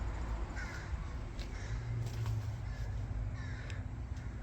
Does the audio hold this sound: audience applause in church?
no